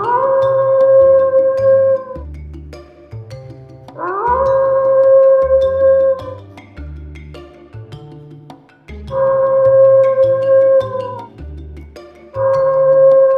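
Fox howls played from a tape recorder hidden in bushes outside a house at night: long, loud, wavering cries in repeated phrases with short pauses between them, rising and holding, then trailing off.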